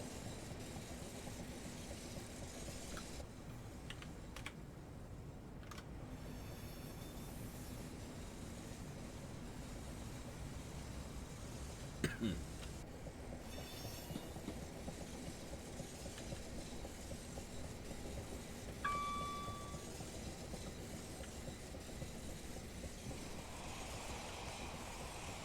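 A Class 378 electric train runs between Watford Junction and London Euston on the West Coast Main Line in Train Simulator, giving a steady rumble and rail clatter with a few brief squeals and clicks.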